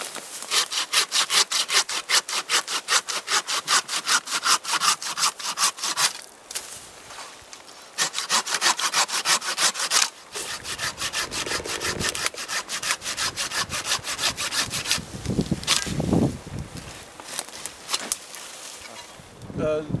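A Fiskars branch saw cuts through wood branches in steady, rapid back-and-forth strokes, loud and close, pausing briefly twice before resuming its rasping rhythm.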